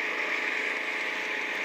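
A steady, droning motorboat engine in the video game Gangstar Vegas runs continuously at an even pitch and loudness, with no talking over it.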